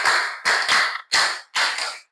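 A class claps in a quick rhythmic pattern of four dense bursts of hand claps, loud and close, with short gaps between them.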